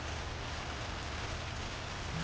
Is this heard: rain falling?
yes